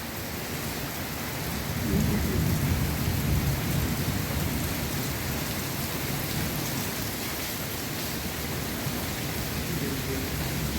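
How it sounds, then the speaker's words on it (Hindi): Heavy monsoon rain pours down outside a home in Pakistan, a dense constant hiss of rainfall with low rumbling thunder swelling early on, steady and close throughout without talk. "बाहर बहुत ज़्यादा तेज़ बारिश हो रही थी, बहुत तेज़ बारिश हो रही है।"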